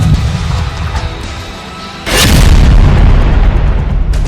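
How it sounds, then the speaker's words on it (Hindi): Explosives blow up Hamas tunnels in Gaza: a sudden heavy boom bursts out after a steady rumbling background and rolls on as a loud, sustained blast. "इन्हें तोड़ने के लिए इजरायली इंजीनियर्स विस्फोटक और रोबोट्स का इस्तेमाल कर रहे हैं।"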